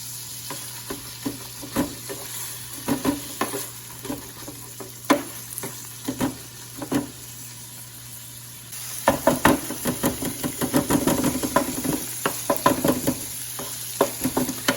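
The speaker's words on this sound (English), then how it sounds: "as I keep kind of chopping through with this scraper, that chorizo is starting to break down" Chorizo sizzles steadily on a hot Blackstone 17-inch E-Series griddle while a metal scraper chops and scrapes it in quick, irregular strokes, growing busier and louder toward the end.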